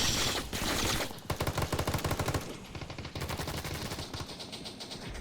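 Rapid automatic gunfire from the old version of the Battlebit video game, loud bursts of rhythmic shots repeating in quick succession with brief pauses between volleys, no voices.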